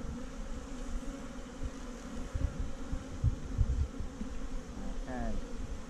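Iberian honey bees buzz in a dense, continuous drone at an open hive, close and steady, with a few louder passes near the mic and a faint short voice toward the end.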